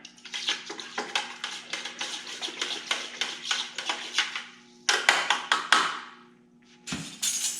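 Baking soda being stirred into water in a bucket, heard as a fast run of sharp scraping, knocking strokes against the container, then a louder swish and a pause before a final thump.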